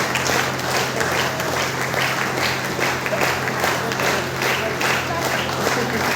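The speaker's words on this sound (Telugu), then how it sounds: "సార్ చప్పట్లు ఆపదు, చప్పట్లు ఆపితే ఏమవుతుంది?" Sustained applause from an audience at a Vestige event, a dense and steady wash of many hands clapping for the whole stretch, with a faint constant hum beneath.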